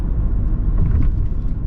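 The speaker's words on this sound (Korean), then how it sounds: "앞에 지금 과속 방지턱이 있는데 조금 세게 넘어져 볼게요" A Kia Sorento SUV's cabin rumble and road noise as it crosses a fairly tall speed bump fast, at nearly 60 km/h; a steady low drone with a slight swell in the middle, no talk.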